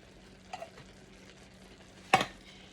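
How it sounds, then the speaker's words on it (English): Ground beef in a pan being stirred after hot tomato sauce is poured in, with a faint low sizzle, a brief scrape near the start and a louder utensil clatter toward the end. "I'm going to add a can of this hot tomato sauce in here."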